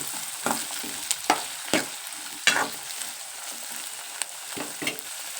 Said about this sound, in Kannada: ಇದು ಸ್ವಲ್ಪ ಮೆತ್ತಗಾಗಂಗೆ ಫ್ರೈ ಮಾಡ್ಕೋಬೇಕು